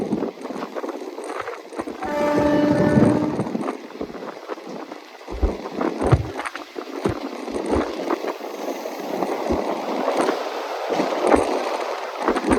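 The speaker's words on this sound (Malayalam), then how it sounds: "നല്ല തിരുവായതുകൊണ്ട് തന്നെ ഫുള്ള് ഹോണടിയാണ് കേട്ടോ" A Shoranur–Coimbatore passenger train sounds one steady, tonal horn blast of about a second over continuous rattling and rumbling carriage noise, with irregular clanks and knocks throughout.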